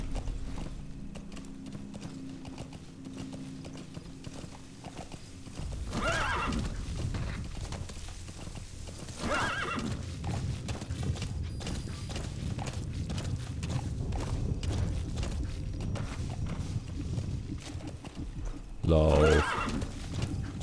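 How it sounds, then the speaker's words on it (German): A horse in the Metal Gear Solid V video game neighs loudly and its hooves clip-clop steadily across the ground, with a second whinny near the end and someone talking in German over the game sounds. "Ich rufe mal das Pferd."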